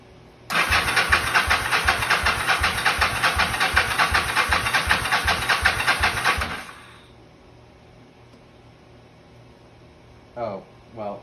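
A 1983 Yamaha Vision XZ550 motorcycle engine cranks with a steady rhythmic churning for about six seconds, then cuts off, leaving quiet hiss and a couple of brief faint sounds.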